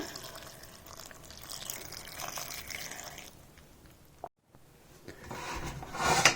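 Water poured into a cooking pot while preparing Himachali fagadi, a soft continuous splashing pour at close range, with a short break and a brighter splash near the end.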